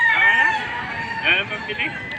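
A rooster crows loudly nearby at a chicken market in Lipa, Batangas, a long rising-and-falling call, followed by a second shorter crow as it fades.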